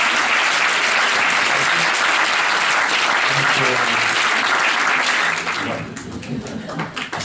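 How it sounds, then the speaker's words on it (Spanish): An audience applauding at a film event for Gracia Querejeta's movie Felices 140, with loud, dense clapping that holds steady for several seconds before thinning out near the end. "Sí, y ese aplauso traducido"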